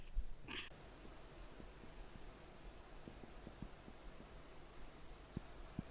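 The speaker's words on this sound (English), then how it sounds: "Now let me write some question." A pen scratches across paper or a board as a question is written out, faint and close, with short irregular strokes and light taps in a quiet room.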